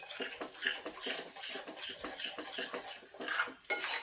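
Utensils scrape and clatter against a pan while a panchakhadya gulpapdi mixture with edible gum is stirred, a busy run of close, rhythmic metallic strokes with no talk.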